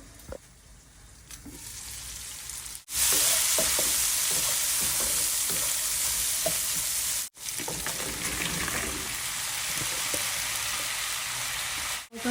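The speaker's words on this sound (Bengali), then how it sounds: "চিংড়ি মাছটা ঢেকে দেবো ঢেকে দিলাম পাঁচ মিনিট পর্যন্ত চিংড়ি মাছটা রান্না করবো" Shrimp cooks under a lid in a pan, a continuous frying sizzle that swells louder after a couple of seconds, with soft clinks and two brief cutoffs, no talking.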